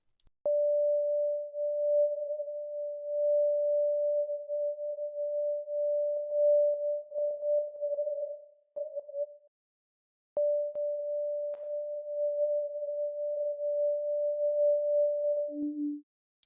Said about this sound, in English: now let's continue the sine wave testing